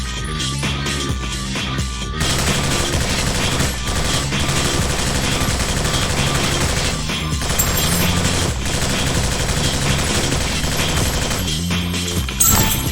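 Dense, continuous rapid gunfire and crashing impacts from Alien Shooter 2 fill the whole stretch, loud and layered, with brief lulls near the start and end.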